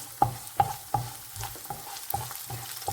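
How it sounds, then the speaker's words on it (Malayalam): A spoon scrapes and stirs a white chickpea curry with bay leaf in a frying pan, repeated rhythmic clinks over a low sizzle, close up, no voices. "നമുക്ക് നന്നായി ഇളക്കി കൊടുക്കാം"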